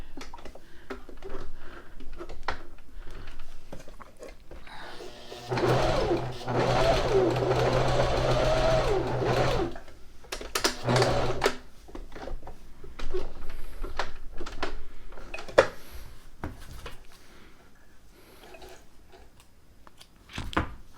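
A sewing machine stitching a short seam on an infinity scarf, a steady mechanical whirr lasting a few seconds, then a brief second burst, with handling clicks and fabric rustle around it.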